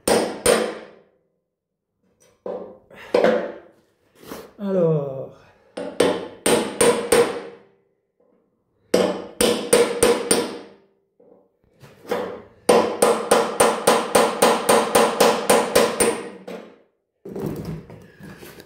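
Repeated sharp metallic hammer strikes on the chassis of a 1961 Volkswagen Beetle, in bursts, including a fast steady run of blows, with a brief word spoken at the start.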